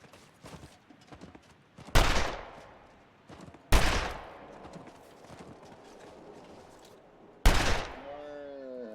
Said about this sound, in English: That was 3 shots.